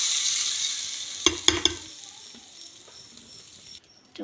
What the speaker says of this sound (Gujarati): તો આવી રીતના વઘાર મેં આના ઉપર નાખી દીધો છે